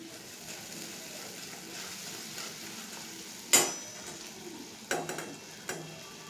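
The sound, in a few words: masala frying in oil for stuffed brinjal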